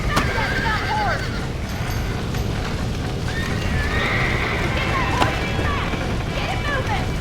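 Horses in the Red Dead Redemption video game neighing and whinnying repeatedly while hooves clop, amid a busy background of game noise and voices talking.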